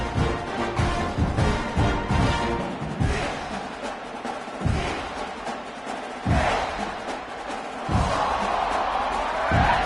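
A stadium crowd in the NCAA 26 football video game roars in a continuous, loud wash of cheering, broken by repeated heavy thumps and swells as the kickoff approaches.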